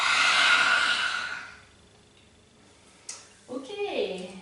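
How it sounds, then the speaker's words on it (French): A long, audible breath during a breathing exercise, a loud airy exhale or inhale lasting over a second, followed by quiet and then a person speaking. "Prenez une profonde inspiration et... Encore une fois."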